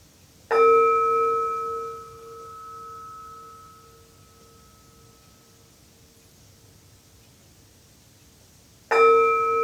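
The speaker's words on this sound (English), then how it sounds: "Listen to the sound of the chime." A chime rings out in a quiet yoga session, one clear metallic strike with a bright, sustained tone that slowly fades over several seconds before a second strike lands near the end.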